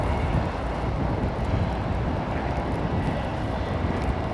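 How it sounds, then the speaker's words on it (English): An Emirates Airbus A380 at Heathrow Airport gives off a broad, steady jet-engine roar mixed with wind noise, loud and unbroken throughout, with no voices. "this Emirates 380 on the push"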